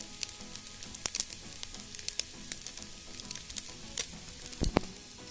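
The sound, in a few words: rice being stirred and fried in a rice cooker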